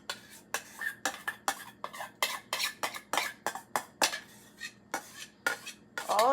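A spoon scrapes a baking dish filled with carrot-apricot baked apples in a home kitchen, giving about twenty quick, sharp, close scrapes and clinks in an uneven rhythm with no talk.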